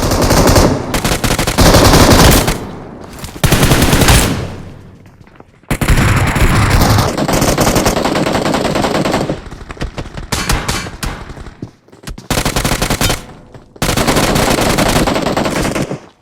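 Heavy, sustained automatic gunfire in a solo-versus-squad battle royale match, with long dense bursts of rapid shots separated by brief lulls, loud and close throughout.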